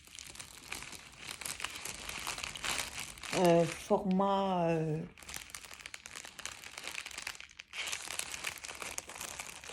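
Paper packaging from parcel mail crinkles and rustles up close in dense bursts, interrupted midway by a short spoken French phrase before the crackling handling resumes.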